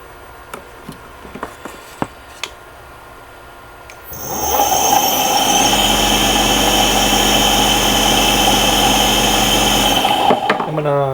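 A car alternator converted into an electric motor spins up and runs steadily with a loud, sustained whine and hum, preceded by a few clicks and taps before it starts.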